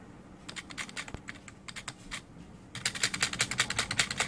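Typing on a Dell SK-8135 membrane keyboard with rubber dome switches gives soft, close key clicks, first in irregular bursts, then a faster, denser run of keystrokes toward the end.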